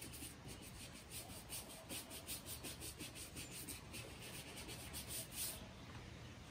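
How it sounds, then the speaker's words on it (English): Cloth rubbing cleaner off a suede shoe in repeated short strokes, a soft steady scrubbing rhythm heard close up and fairly quiet. "And see, I'm just wiping up this extra."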